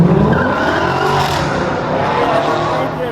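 A Dodge Hellcat accelerating hard on a Chicago street, a steady loud engine roar mixed with sustained tire squeal that holds for several seconds before easing slightly.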